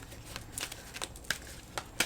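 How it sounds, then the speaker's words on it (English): A deck of cards is shuffled, a quiet run of riffling snaps and soft papery flicks, several crisp bursts spaced irregularly and heard close up, with no talking. "I'm going to give it a good shuffle"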